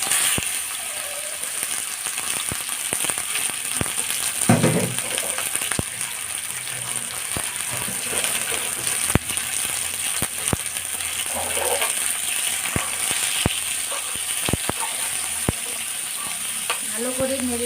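Chicken pieces fry in hot oil in a saucepan while making an egg roll, giving a steady hiss and crackle with sharp clicks of a utensil stirring and scraping the pan throughout.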